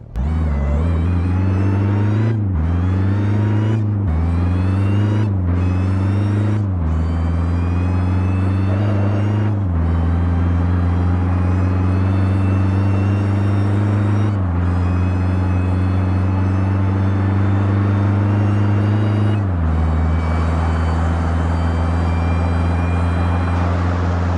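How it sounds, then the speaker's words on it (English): A van in a driving video game accelerates to its top speed, its loud engine drone climbing in pitch and then dropping at each of several gear shifts, steady and close with no talking. "There we go, 224 kilometers an hour is the top speed for the van."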